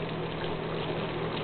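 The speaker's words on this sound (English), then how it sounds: "May I turn on the sink?" Water running from a sink tap, a steady close hiss and gush of flowing water without pause.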